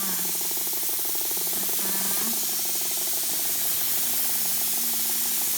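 Alcohol disinfectant spray misted through a Thai massage room, a steady soft hiss running for several seconds with a faint tonal hum underneath, close and fairly quiet with no talking.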